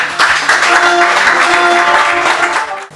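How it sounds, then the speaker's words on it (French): An audience at a nightclub music event applauds in a loud, continuous burst of clapping over background music, fading out at the end. "Faites un tonnerre d'applaudissements pour Joey."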